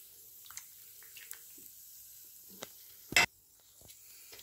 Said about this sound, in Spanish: Aquí la dejo hervir un poquito porque ya está todo cocido.